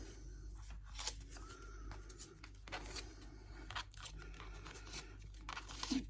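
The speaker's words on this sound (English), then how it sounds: "I'm not very good at cutting out ovals" Scissors snip and tear through paper while cutting out small oval shapes for a desk tidy box, a series of close, crisp cuts and crinkles at an irregular rhythm with no talking.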